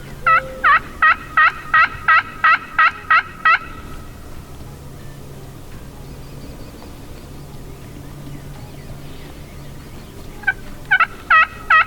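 Rio turkeys gobble in two bursts of rapid repeated calls, fairly close and loud, on a spring turkey hunt across ditches and open ground, with a quiet outdoor background between the bursts.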